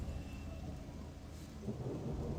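Steady rain in the video game Gothic 2: Night of the Raven pours in a continuous wash with low rumbling underneath, dense and fairly loud throughout, with no voices.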